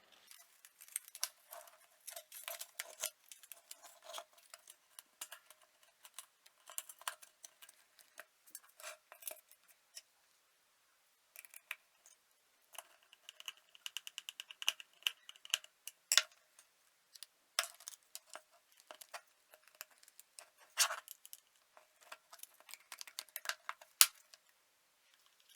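Small metal and plastic parts of a Parlux 385 hair dryer tick and clink in quick irregular bursts as the housing is put back together after repair, close and fairly quiet, with no talk.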